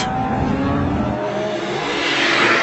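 A car speeds along out of control, its engine revving in a steady, loud roar that swells slightly toward the end.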